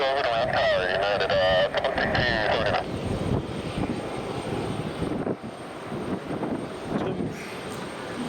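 At Raleigh-Durham International Airport, a Delta airliner's jet engines make a loud, steady roar that swells and rumbles throughout, with a creaking mechanical sound in the first few seconds.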